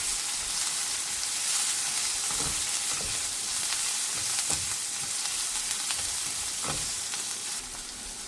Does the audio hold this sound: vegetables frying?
yes